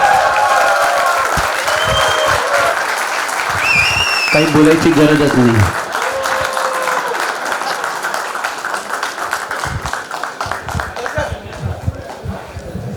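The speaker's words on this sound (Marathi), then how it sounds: "पुन्हा एकदा टाळ्या वगैरे." Applause rolls through the hall at a school silver-jubilee reunion as a teacher is called to the stage. Steady clapping runs under someone speaking over a microphone, with brief tones in between, then thins out toward the end.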